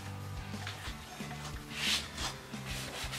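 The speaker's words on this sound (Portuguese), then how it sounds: "Olha a força dessa lixa removendo o material." Metal being sanded by hand with 120-grit sandpaper: steady back-and-forth rasping strokes in a regular rhythm, moderately close, with a brief louder scrape midway and no talk.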